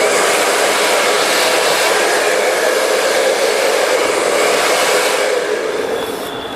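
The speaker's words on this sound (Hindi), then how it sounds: "मैं पीछे से ड्रायर दूंगा इस तरीके से" A hair dryer blows steadily at the back of the head during in-turn blow-dry styling of a razor/feather haircut, with a brush held in front. The loud, continuous whoosh runs throughout and fades slightly at the end, with no talking.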